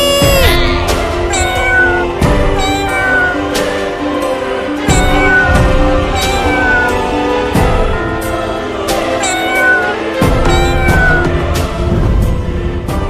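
Loud cats meow over and over, several overlapping cries rising and falling in rapid succession, close and insistent.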